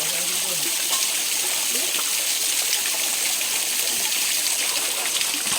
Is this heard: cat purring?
no